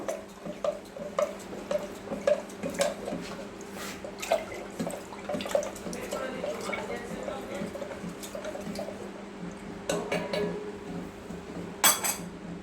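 A spoon stirs a sattu drink in a glass, clinking in quick, irregular taps with a faint swirl of liquid and a tonal ring, close and moderately soft over about twelve seconds.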